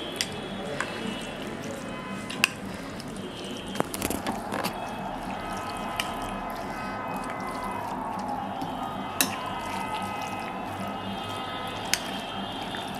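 Chotpoti ingredients with green chilli are stirred together in a bowl, giving soft squelching sounds broken by a few sharp clinks of the spoon.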